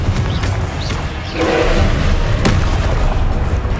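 Confringo explosion spell cast in Hogwarts Legacy, a loud booming blast with a sharp burst near the middle and a second crack later, over dense continuous game effects and rumble.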